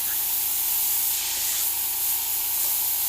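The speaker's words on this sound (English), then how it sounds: "And for airbrush here, I'm using my Takumi Eclipse, not the Micron." A Takumi Eclipse airbrush sprays paint in a continuous, close, loud hiss that holds steady throughout without any pauses or talking.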